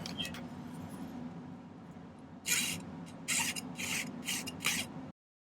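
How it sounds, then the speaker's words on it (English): Bursts of hand filing on a silver pendant, several short raspy strokes in an uneven rhythm over a low background hum, close and moderately loud. "Just going to do a little cleanup filing."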